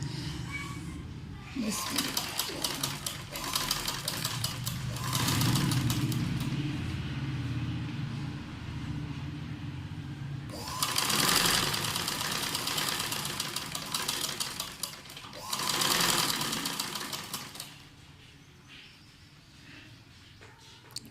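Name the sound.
sewing machine stitching fabric band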